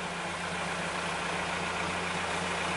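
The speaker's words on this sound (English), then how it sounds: "Kind of seems pointless having the engine on for an extra knot." A sailing boat's engine runs under power at sea in the Mediterranean, giving a steady low droning hum with a constant rumble and no change in pitch, and no talking over it.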